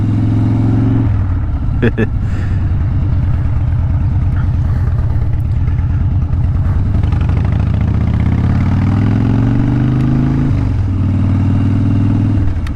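A Harley-Davidson Dyna motorcycle on a Sunday afternoon ride, its engine rumbling loud and close throughout, with a few shifts in pitch as it accelerates and changes gear, under steady wind noise.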